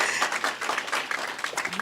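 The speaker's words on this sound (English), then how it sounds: "Give them a round of applause" An audience at a university language policy indaba gives service providers a round of applause, a short burst of clapping with a few individual claps standing out.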